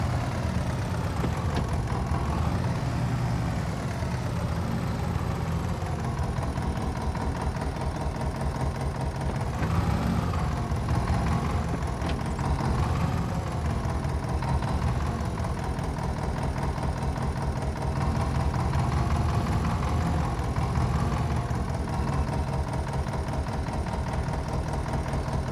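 A vintage farm tractor engine runs steadily at close range, a loud continuous chugging drone with a slight rise and fall in pitch and no voices.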